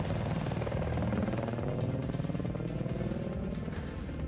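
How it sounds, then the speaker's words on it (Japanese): A helicopter in the Battlefield 4 video game on the Dragon Valley map, its rotor chopping in a steady fast pulse with engine drone, fairly close and continuous, no talk over it. "あー、ヘリか。"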